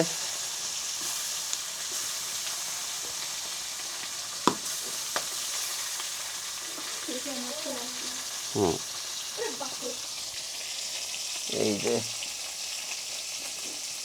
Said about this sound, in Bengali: এই যে দেখেন কই মাছগুলো ছেড়ে দেওয়া হচ্ছে